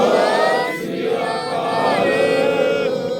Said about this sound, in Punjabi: ਇੱਕ ਵਾਰੀ ਜਕਾਰਾ ਛੱਡਦੇ ਹਾਂ ਜੀ ਆਪਾਂ ਬੋਲੇ ਸੋ ਨਿਹਾਲ